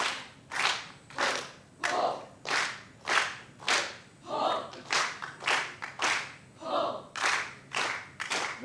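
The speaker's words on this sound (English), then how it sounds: "Ho, clap, clap, clap." Audience in an auditorium clapping in unison, a steady rhythmic series of about fifteen loud, sharp group claps, evenly spaced and close, with a few faint shouts between beats.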